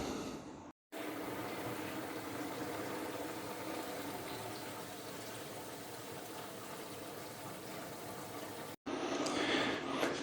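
A small pump drains water out of an aquarium sump, giving a steady, fairly quiet gurgling, sloshing wash of liquid that runs continuously, broken by a brief cut near the start and a louder burst at the end.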